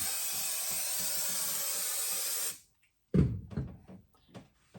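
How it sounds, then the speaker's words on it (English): A steady aerosol spray of adhesive hisses continuously for over two seconds onto headliner padding in a 1972 VW Super Beetle, then stops abruptly, followed by a few close handling knocks and rustles. "I'm going to spray the back side here, just to make sure we get a good bond."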